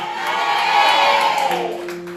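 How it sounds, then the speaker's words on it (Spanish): Church congregation applauding and cheering during a Spanish-language Sunday morning service, a steady wash of clapping with whoops and shouts, loud and sustained throughout with a voice sustaining a tone over it. "Denle un aplauso al Señor"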